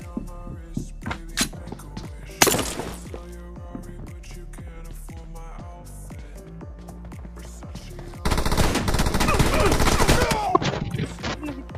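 Video game gunfire during a team deathmatch: rapid automatic bursts and scattered single shots, with a loud, dense stretch of sustained firing near the end, while voices talk over parts of it.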